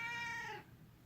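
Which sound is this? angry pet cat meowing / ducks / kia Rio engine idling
angry pet cat meowing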